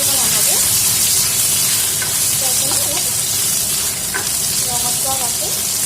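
Crushed ginger and garlic sizzle loudly in hot oil in a pan, a dense continuous crackle and hiss with occasional stirring scrapes, close and steady throughout.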